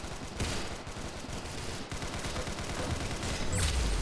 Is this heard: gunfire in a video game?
yes